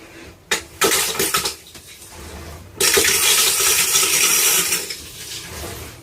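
A toilet flushing nearby: a sharp clunk of the handle, a brief rush, then a loud sustained gush of water swirling and draining before tapering off.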